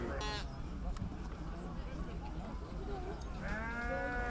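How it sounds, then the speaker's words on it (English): Swaledale sheep bleat in noisy show pens at an agricultural show, one call at the start and another near the end, over a steady crowd murmur and scattered farmyard sounds. "fine specimens of Swaledale sheep."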